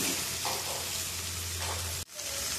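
Chicken with turmeric and black pepper frying in a pan for tikka pizza filling, a close continuous sizzle with soft stirring scrapes and a brief sharp knock near the end.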